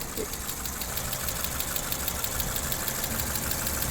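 A 2006 Mercedes A-Class engine idles steadily with a faint, rapid ticking riding on top of the running hum.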